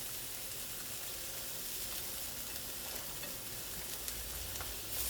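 Lengthwise-sliced eggplant frying in a pan gives a dense, even hiss of sizzling oil that holds steady and fairly quiet throughout, with a few faint pops and a slight low bump near the end.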